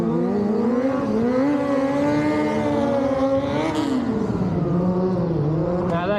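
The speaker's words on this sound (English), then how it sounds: "Now that's a basic sit-down wheelie for us." A motorcycle engine revs hard and steadily during a sit-down wheelie stunt at a Scottish bike show, its pitch rising, dipping and climbing again in a loud, continuous drone close by.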